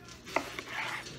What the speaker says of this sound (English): I'm just chopping up one red onion